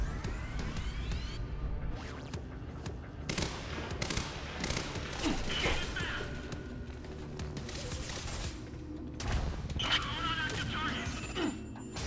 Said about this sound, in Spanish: ¿Cuántos tiros les tengo que pegar a esa gente, macho?